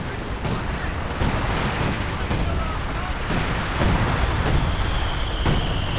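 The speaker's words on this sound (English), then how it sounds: "Oh, dropping in some artillery now somewhere." Distant artillery barrage in the World War II strategy game Company of Heroes 2, a steady rumble broken by repeated dull booms and thuds spread across the scene, with a faint high whine running through the later part.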